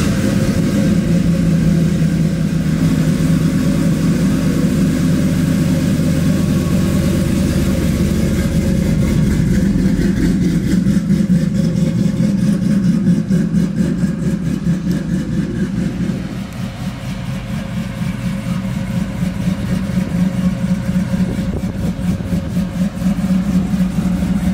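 A 600-horsepower cammed LS V8 in a 1966 Chevelle restomod on a Roadster Shop chassis idles steadily and loud up close, a deep continuous rumble with a lumpy cam lope throughout, no talk over it.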